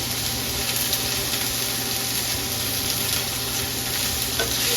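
Yellow and orange peppers, with a stray piece of onion, sizzle and fry in a pan for chicken fajitas. A steady, dense, close crackle holds evenly throughout, with no voices.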